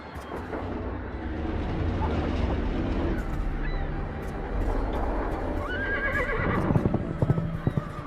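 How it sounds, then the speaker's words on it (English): A stallion in the game Argonus and the Gods of Stone neighs, with a clear whinny near the end over a steady windy, rumbling backdrop, and faint hoof-like clops around it. "the stallion launches itself from the cliffside before mighty wings carry it far above the awestruck sailor below"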